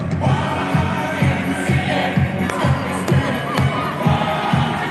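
A crowd cheers and shouts at a 10U youth baseball game between the Pirates and Mission AZ while a song plays, loud rhythmic chanting and clapping pulsing steadily with the music.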